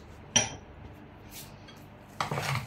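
Seasoned goat cheese terrine filling mixed in a bowl. A sharp clink of a utensil on the bowl is followed by quieter scraping, then a burst of rough stirring and scraping near the end.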